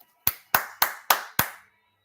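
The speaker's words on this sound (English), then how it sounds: "Hold on, I'm clapping." Five sharp hand claps at a steady, slightly uneven rhythm, close and crisp, each with a short decaying tail, heard during a live reaction to a New York Knicks versus Brooklyn Nets basketball game.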